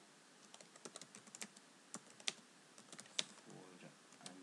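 Soft, irregular key taps on a computer keyboard, a quick run of close, faint clicks with short pauses and no speech.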